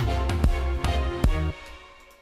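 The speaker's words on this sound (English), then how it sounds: "Tom over here is quite interesting, which goes like this." A tom drum pattern plays within an electronic remix track produced in Ableton Live. It has several punchy, resonant hits over a dense, sustained synth bed, and the mix tails off toward the end with no speech.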